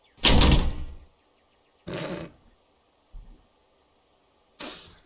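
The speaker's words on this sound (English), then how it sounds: "He slams his door shut without warning" Door slamming shut in a horror visual novel game: a loud, close whooshing bang, then several shorter, fainter thuds and sweeps spaced apart.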